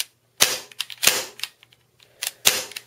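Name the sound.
airsoft pistol shooting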